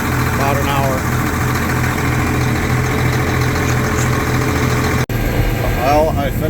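A truck engine idles steadily at close range, a constant low rumble that runs through the whole stretch, with someone talking over it and a brief cut near the end.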